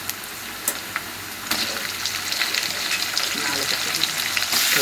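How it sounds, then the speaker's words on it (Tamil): Tomatoes tipped into a pan of onion-ginger masala for potato masala gravy sizzle steadily, the frying hiss swelling louder partway through with a few soft clatters near the start. "இப்போ தக்காளி போடலாம்."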